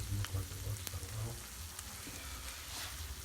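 Thick corn tortillas sizzle softly as they heat on a pan, a steady close crackle with faint bumps and clicks near the start.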